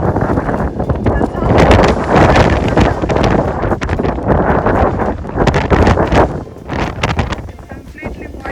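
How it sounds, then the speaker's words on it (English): Strong gusting wind in a Canadian winter snowstorm roars loudly and buffets the microphone, surging and easing in waves, with a person speaking briefly under it. "it's so windy"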